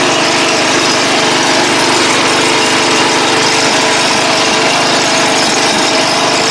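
The engine of a propane-fueled race lawn mower runs loudly and close, a dense, steady roar at constant revs throughout with no pauses.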